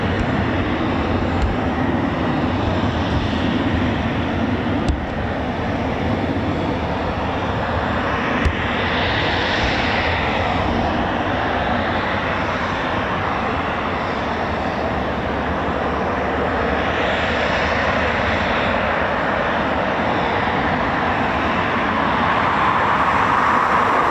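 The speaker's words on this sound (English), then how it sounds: "there'll be plenty more Typhoons going out today" Eurofighter Typhoon FGR4 jets take off at an RAF station, a loud continuous engine roar that holds steady throughout with slow swells in intensity, no voices over it.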